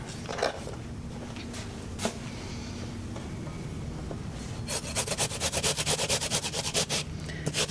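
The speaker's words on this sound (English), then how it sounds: "we'll just go ahead and grate it" Food being grated by hand on a metal grater in a kitchen, a few scattered rasps at first, then a quick run of rhythmic scraping strokes near the end, close and clear without speech.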